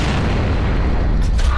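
A grenade blast in Gears of War, the original game on co-op insane difficulty, rolls out as a loud, dense low rumble that fills the whole clip, with a brief sharper burst near the end.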